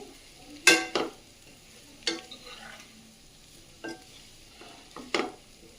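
Boiled eggs are lightly fried in a pan for egg onion curry: a soft sizzle under a few sharp spatula scrapes and clinks at irregular intervals, close and fairly quiet.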